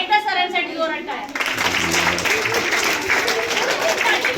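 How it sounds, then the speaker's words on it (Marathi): Loud applause from a school audience for a teacher at a Marathi Language Day quiz, dense clapping and crowd noise swelling in after a brief stretch of speech and continuing steadily to the end. "एकदा सरांसाठी जोरात टाळ्या."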